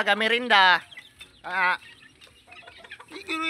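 Chickens cluck in loud, close bursts with quieter gaps between, some calls rising into higher squawks.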